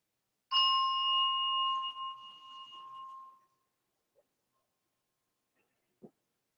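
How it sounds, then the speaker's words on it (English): A single bell rung to close a chair yoga session gives one clear, bright strike that rings out and slowly fades over about three seconds, followed by quiet with a couple of faint soft knocks. "I'll ring the bell one final time to bring us back into this moment"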